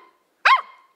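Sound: puppy barking

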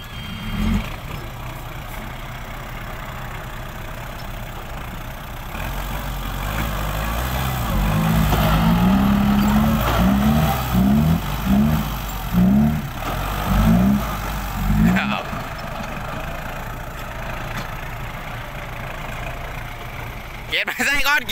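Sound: tractor engine idling and revving

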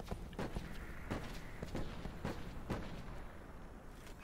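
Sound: gunfire in Call of Duty: Black Ops 4 video game

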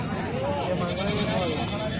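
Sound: goat bleating at a livestock market

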